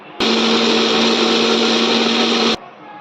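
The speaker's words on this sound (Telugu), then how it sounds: "మిక్సీ పట్టుకుందాం." A mixer grinder grinds mushroom masala paste, whirring loudly at close range for about two seconds, a steady high-pitched motor drone that starts and stops abruptly.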